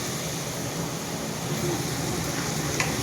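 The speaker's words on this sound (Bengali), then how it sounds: "এবার আমি মশলাটা দিয়ে দেবো।" Spices sizzling as they hit a hot frying pan in a home kitchen, a steady close hiss of frying that holds evenly throughout with faint scraping.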